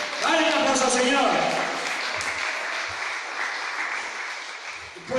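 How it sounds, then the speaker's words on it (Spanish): Church congregation bursts into applause during a sermon, a dense, sustained wash of clapping that holds steady and slowly eases, with voices shouting over it at the start. "¡Dale un aplauso al Señor!"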